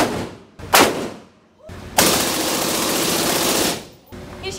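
Gunfire at a Machine America shooting range: a short loud burst, then a sustained rapid automatic volley lasting about two seconds, heard close in a reverberant space.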